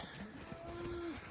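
A cow moos once in a low drawn-out call while being herded around a corner on an icy farm, heard over steady background noise with no talk.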